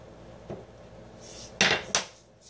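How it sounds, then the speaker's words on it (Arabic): A large knife cuts rolled cookie dough into strips on a work surface, giving a soft tap followed by two sharp, close knocks of the blade on the board. "راح قطعه شرايط. صراحة انا احب استخدم السكين الكبير او العجلة، بتعطيني تقطيع اسرع"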